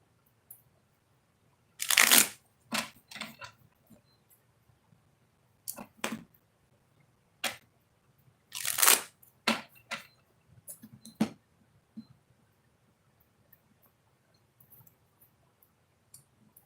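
Oracle cards being shuffled in two bursts of quick riffling, followed by scattered light taps and card handling, close and fairly quiet over a faint low hum, with no talking.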